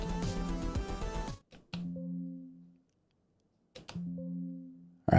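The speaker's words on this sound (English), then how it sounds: "what you're hearing is Windows because I'm hitting Shift T" Windows system notification chimes set off by pressing Shift+T on a computer: a noisy burst at first, then two short tonal sounds with clear harmonics that ring out and fade, separated by silence.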